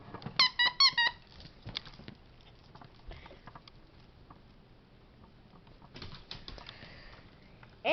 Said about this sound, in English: a little box with toy fish in it that she needs to try and get out, and they squeak